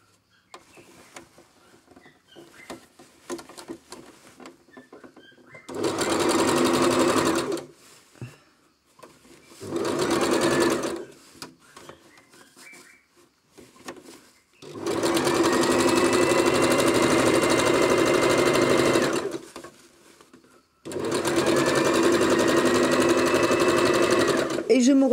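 A sewing machine stitches a trouser seam in four loud, close bursts of rapid mechanical whirring, the later ones long and sustained, separated by quieter pauses with faint handling noises and some talk.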